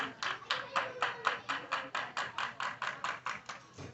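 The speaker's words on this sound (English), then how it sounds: "Clapping going on from the dugout over there to my right." Rhythmic clapping from a baseball dugout at a high school game, about fourteen even claps at a steady pace, moderately near and without talk.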